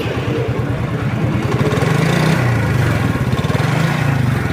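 A Runner Durant 80cc motorcycle engine idles close by, a steady low throbbing putter that rises briefly in pitch midway as if lightly revved, then settles back to an even idle, with no talk.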